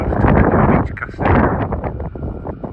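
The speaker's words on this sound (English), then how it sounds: "Apologies for the wind." Loud wind buffets the microphone in heavy, rumbling gusts, easing briefly in the middle before surging again.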